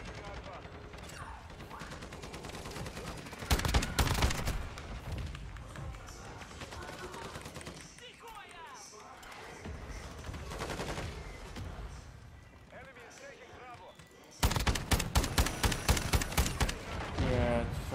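Turret gunfire rattles in Call of Duty as rapid, dense bursts of shots, loudest in two stretches, over continuous game noise.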